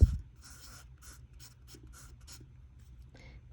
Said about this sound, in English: Next, I always go in with my soft pencil.